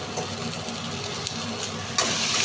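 Ginger and chopped tomato frying in hot oil, a steady dense sizzle that holds evenly throughout and swells a little louder near the end, with no voices.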